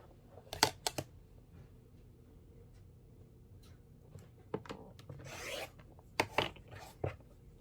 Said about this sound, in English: let me grab my rotary cutter, and I'm going to go ahead and just cut directly on that line.